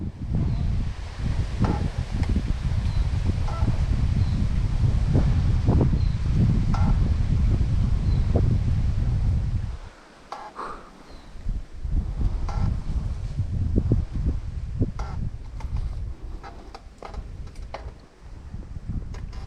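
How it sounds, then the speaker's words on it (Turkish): Strong gusts of wind buffet the microphone, roaring low and steady, then briefly easing before rushing back in uneven bursts. "Rüzgar biraz dinsin"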